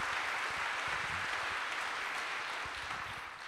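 An audience claps steadily through a live book talk and conversation event, a dense, even patter of applause that tapers a little near the end.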